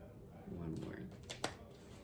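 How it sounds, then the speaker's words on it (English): Quick riffling and snapping of playing cards being shuffled, a short burst with a sharp flick near the end, close by. "Let's do a quick shuffle and get one more"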